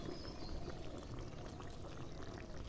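Mutton curry simmering in a pot as potatoes are added, a steady dense bubbling and sloshing wash that stays even throughout, moderately close with no voices.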